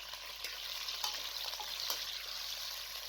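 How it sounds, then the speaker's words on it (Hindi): Chicken frying in hot cooking oil in a karahi over medium flame, a soft continuous sizzle with occasional scraping stirs and small crackles, fairly quiet and close with no talking. "और चिकन को इतना फ्राई करना है कि इसका कलर पिंक से वाइट हो जाए"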